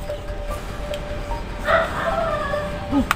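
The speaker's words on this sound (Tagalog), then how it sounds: "May aso man. May kasama kang aso?" A dog barks a few times at a distance outdoors, short yips over a steady background hiss, with faint bird or fowl calls in the surroundings.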